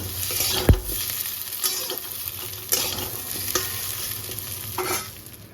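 Oil heating and sizzling in a wok, a continuous hissing sizzle with a sharp clatter near the start and a few softer knocks, close and steady.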